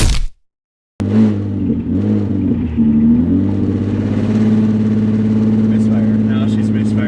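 A rebuilt, previously flooded BMW engine runs and misfires, idling with a steady droning hum and uneven pulsing. It follows a brief silence at the start and stays close and loud throughout.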